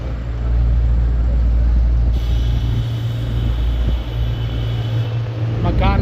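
Road traffic rolls along a reopened, flood-damaged road in Swat, heard as a continuous low vehicle rumble with wind buffeting the microphone. People talk over the noise throughout.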